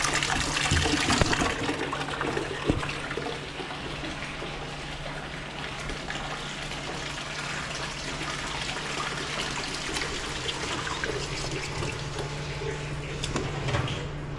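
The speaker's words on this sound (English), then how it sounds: "So we'll just run that hot water and fill out the sink" Hot water runs steadily from a tap into a farm washroom sink, a constant low rushing hiss with a faint hum beneath and no voices.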